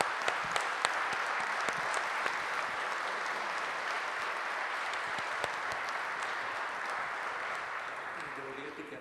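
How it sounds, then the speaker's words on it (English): A large audience at the 1000 Miglia 2022 route presentation gives sustained, dense applause, a steady roar of many hands with a few sharper claps standing out near the start. "I'd just like to close with a huge applause to you for everything that you did"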